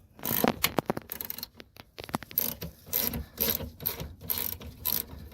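A socket ratchet clicks in quick bursts while loosening a rear brake bolt on a Corvette, the rapid pawl clatter close and loud with short pauses between strokes.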